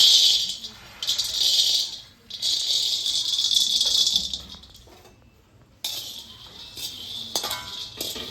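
Dry, rattling scrape of peanuts being stirred in a pan as they roast, coming in bursts with brief quiet gaps, close and fairly loud.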